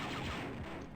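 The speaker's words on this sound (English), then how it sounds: "And the ultimate weapon in the game. Ah. The assault cannon." Assault cannon fire in the Star Wars: Dark Forces video game, a brief, dense burst of rapid blasts that sounds like heavy automatic gunfire and comes through fairly faint.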